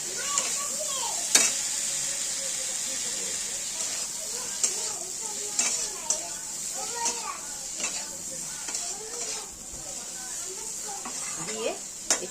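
Potato pieces drop into hot oil for an egg and potato curry and fry with a steady sizzle, stirred now and then with clinks of the pan, while a voice talks over the cooking.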